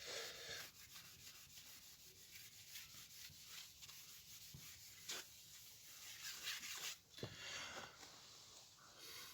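A duster rubs writing off a classroom board in a continuous soft, scratchy swishing, with back-and-forth strokes and a few light taps, faint and close.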